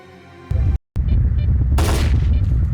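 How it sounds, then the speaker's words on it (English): A gunshot fired in the video game S.T.A.L.K.E.R.: Clear Sky, a single loud, sharp blast cutting through steady in-game ambience, with a brief silent gap and a bright noisy burst following. "I can shoot my gun."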